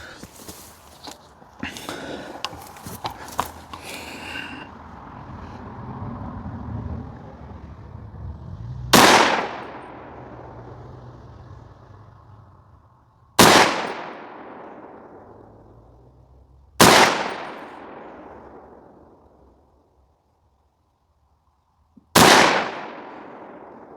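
Four loud rifle shots from a Q HoneyBadger at an outdoor range, fired several seconds apart, each a sharp crack with a ringing decay, after some handling noise and clatter at the start.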